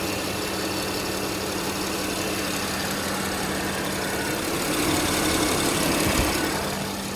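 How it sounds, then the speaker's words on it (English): A 2016 Porsche Panamera engine idles steadily with a low, even hum and faint mechanical whir throughout, swelling slightly louder near the end; no one speaks. "This car's actually been idling for probably 30-40 minutes while we've been doing photographs of it"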